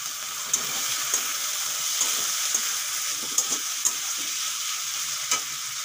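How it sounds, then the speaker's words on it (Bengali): Shrimp frying with ginger-garlic paste as chopped tomatoes go into the pan, a loud continuous sizzle broken by sharp clicks and scrapes of stirring, with no voices. "এখন দিয়ে দেবো কেটে রাখা দুটো টমেটো।"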